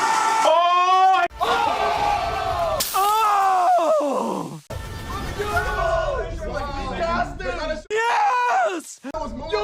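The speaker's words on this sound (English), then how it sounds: "Oh look, she's in space screaming." A woman's screams in a superhero film scene set in space: loud, drawn-out cries with rising and falling pitch, mixed with other yelling voices and a thick background of roaring noise and music.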